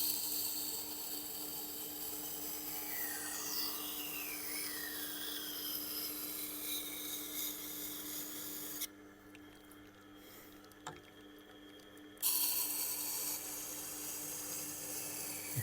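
A Nitro V steel knife being sharpened on a Tormek Blackstone wheel: a continuous grinding whir with steady rubbing scrape, close and moderately loud, a brief lull midway before it resumes, no talking.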